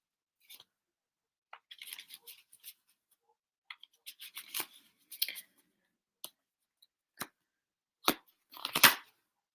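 Tarot cards being shuffled by hand: soft, sparse papery flicks and riffles, quiet and close, building to a brief louder flurry of card snaps near the end with no talking.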